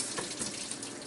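Water runs steadily from a tap to rinse an endoscope at a sink, a continuous close hiss and splash with no pauses.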